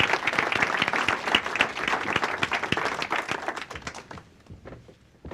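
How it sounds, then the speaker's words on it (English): A room audience claps to welcome guests onstage, brisk crowded applause with distinct individual claps up close, holding steady before thinning out and fading near the end. "So I'd like to give them a round of applause and a warm welcome."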